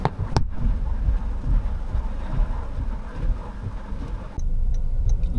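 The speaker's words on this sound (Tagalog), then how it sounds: "lakas ng ulan." Heavy rain drums steadily on a moving car during a morning ride-hailing trip, a dense low wash with a sharp knock near the start and a slight change in tone near the end.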